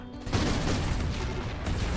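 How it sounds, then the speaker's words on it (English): Dense rapid gunfire from a raid in the RimWorld video game, continuous overlapping shots filling the whole short stretch with no pauses. "Lots of gunshots."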